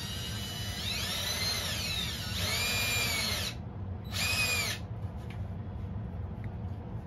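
A power drill whines up and down in three close bursts, the last short, then stops, leaving a low background rumble.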